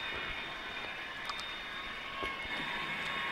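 A Dapol Class 68 model diesel locomotive in Chiltern Railways livery runs along a model railway track, giving a steady, close hum with a faint high whine and light rail clicks throughout.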